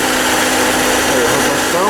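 A Ford Ka 1.0 engine running at its first start with an abnormal noise: a loud, constant, buzzing mechanical drone with a whining edge, heard close up without a break.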